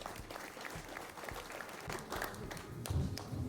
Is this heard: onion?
no